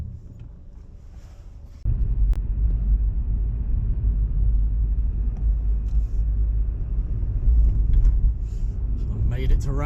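Car driving along Ramsgate seafront on the UK coast, a steady low engine and road rumble that grows louder and fuller after the first couple of seconds and holds continuously close by.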